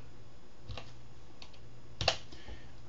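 Computer keyboard typing, sparse soft key taps in a quiet room with a slightly louder cluster of clicks near the end.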